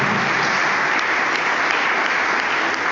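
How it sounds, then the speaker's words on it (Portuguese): A church congregation at an evening service gives a loud, continuous round of applause that fills the room evenly from start to finish. "Vamos dar ao Senhor uma gloriosa salva de palmas, porque Ele é digno."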